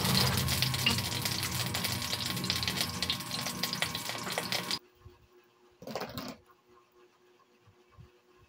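Chicken breast frying in melted butter in a pan makes a dense, loud close sizzle that cuts off abruptly midway, leaving near silence broken by a brief burst of sound.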